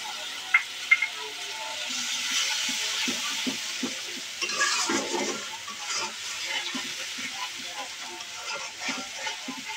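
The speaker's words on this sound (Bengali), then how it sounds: "মশলাটা বাদামি রঙের হয়ে গেলে একটু পানি দিয়ে দেবো।" Browned spice paste of turmeric and coriander powder for a fish curry hisses and sizzles in a pan after a splash of water, with intermittent stirring clicks and scrapes and bursts of steamy crackle.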